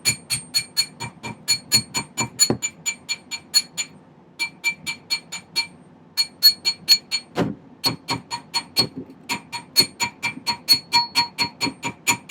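A small polished chasing hammer taps repeatedly on a silver ring, making bright, ringing metallic clinks in quick bursts of steady strikes with short pauses between them.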